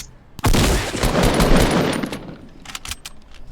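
A single loud, close blast from a shotgun in Fortnite, with a heavy crack that rolls into a dense, noisy tail lasting a couple of seconds before fading into a few small clicks.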